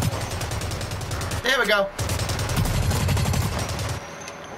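Rapid automatic gunfire from the online shooter game BlackLight Retribution rattles in dense, continuous bursts, with a brief voice cutting in near the middle and the firing pausing for a moment before resuming loud and close.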